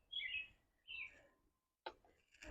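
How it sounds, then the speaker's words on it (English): Small garden birds give two faint, high chirps at feeding time, followed by a soft click. They sound distant and quiet, with no talking. "Those are the birds calling their bird friends to come over because it's time to eat."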